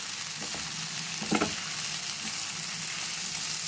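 Potato, eggplant and prawns being mixed in a frying pan, a constant sizzle with a few clattering stirs of the spatula partway through, close and continuous.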